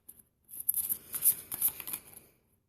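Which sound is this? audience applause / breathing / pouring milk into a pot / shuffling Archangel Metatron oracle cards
shuffling Archangel Metatron oracle cards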